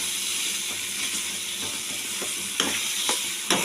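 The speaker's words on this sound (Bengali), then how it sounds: "তেলে একটু ফ্রাই করলেই আমার শিম ভর্তা রেডি হয়ে যাবে" Mashed flat beans frying in oil in a pan give a constant dense sizzle throughout, with a few brief scraping knocks of a spatula near the end, no talking.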